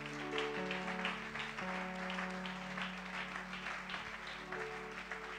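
A church congregation applauds under a sustained organ or keyboard chord, the clapping soft and diffuse, steady for several seconds.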